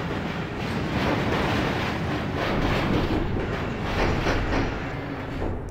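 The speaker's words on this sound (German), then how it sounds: "Das ist unsere Lok." Locomotive in Train Simulator 2018 on a run to Karlsruhe, a steady continuous rumble of rolling stock with faint clickety-clack of wheels over rail joints, sustained throughout without talk.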